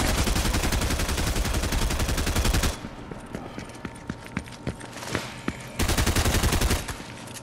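Rapid automatic gunfire in a shooter video game, a loud, steady stream of shots that breaks off into scattered single pops and distant bursts before another long full-auto burst resumes near the end.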